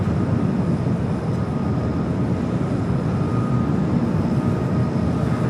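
An ABX airplane taking off from runway 25 right at LAX airport, heard as a loud, steady, broad jet roar that holds without a break throughout.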